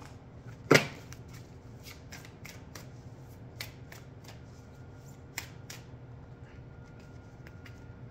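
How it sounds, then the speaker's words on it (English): Tarot cards being shuffled and picked produce soft, scattered flicks and snaps, with one louder slap near the start and light card riffles throughout, close and quiet without speech. "Picking all these cards for you today."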